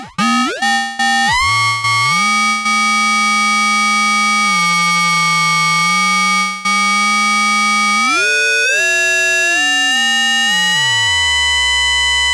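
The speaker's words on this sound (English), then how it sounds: "So you can get some nice sounds out of ring mod." An ARP Odyssey synthesizer played through its ring modulator produces loud, harsh, metallic, bell-like tones. The clashing overtones glide and jump in pitch over a sustained held note, with no talking.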